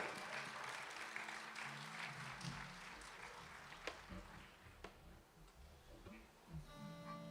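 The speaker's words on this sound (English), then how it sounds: "Let's bring him huge applause." Concert audience applause at a medieval fortress in Târgu Mureș during a guitar duo performance, a steady, fairly distant wash of many hands clapping that gradually thins out.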